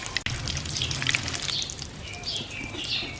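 Pakoras deep-fry in hot oil with a dense, steady sizzle and crackle, bright spitting pops scattered throughout, close and continuous, with no voice over it.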